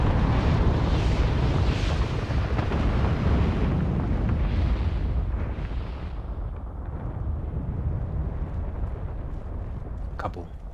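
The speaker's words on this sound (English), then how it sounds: "Kaboom." A big explosion in Final Fantasy XIV: a loud, sustained rumbling blast with heavy low roar that slowly fades over several seconds, ending with a brief crackle.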